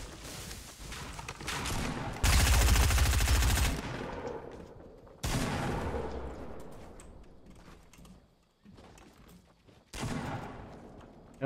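Fortnite gunfire crashes in as several loud, abrupt bursts of rapid shots, each cut off sharply and separated by quieter gaps of ambient game noise.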